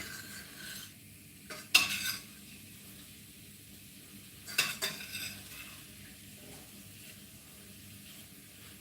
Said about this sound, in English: you basically want to get underneath the meatballs and shovel them over